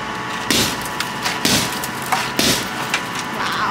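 Repeated hard blows of a hammer against a car's side window, about four sharp impacts spaced roughly a second apart, each a loud crack with brief rattle, over steady background noise and no talk.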